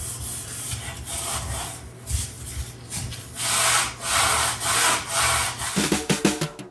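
Scotch-Brite pads scrubbing old wooden cabinets, a close, continuous rasping rub in uneven back-and-forth strokes, growing louder, then ending in a few sharper scraping taps.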